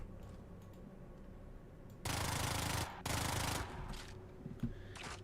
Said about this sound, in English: I can probably just kill him with the SMG